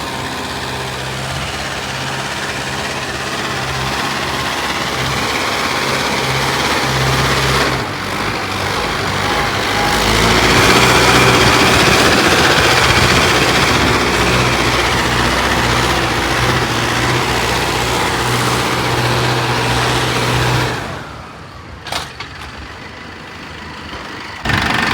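Tractor engine, a Mahindra Arjun CRDI 655 (the 25 hp upgraded version), runs under load while driving in a field. It gives a steady, loud low rumble with harmonic drone throughout and eases off sharply near the end.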